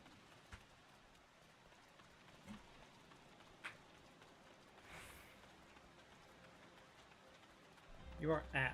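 Steady, soft rainfall in the Final Fantasy XIV video game, a faint continuous hiss with a few light thuds and clicks, ending in a brief louder burst of game sound.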